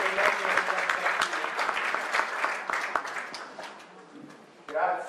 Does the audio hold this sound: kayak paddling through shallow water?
no